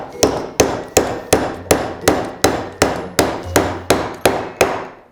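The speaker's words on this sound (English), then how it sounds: "Try to hit with the center of the hammer head." Steady, evenly spaced hammer blows, about a dozen sharp ringing strikes at a regular rhythm, close and loud with no talking.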